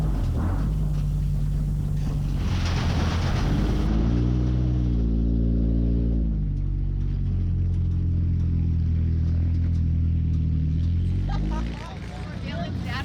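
Compact four-cylinder autocross race cars at the Antelope Valley Fairgrounds main event, engines rumbling and revving loudly with rising and falling pitch over continuous crowd and arena noise, a voice talking over them.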